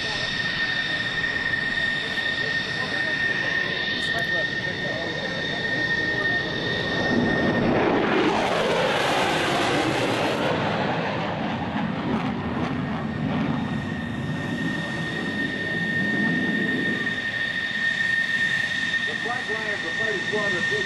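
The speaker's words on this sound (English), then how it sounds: "Two more Tomcats into the break." Navy F-14 Tomcat fighter jets at the 2004 NAS Oceana airshow produce a loud, steady engine roar that swells midway as the aircraft pass overhead, with an announcer speaking over the noise.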